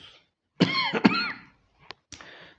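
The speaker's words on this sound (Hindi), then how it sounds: "देखो मैं भी खांस ले रहा हूँ, है ना।" A close, raspy cough with a throaty, strained tone, then a brief sharp catch and another short cough-like burst.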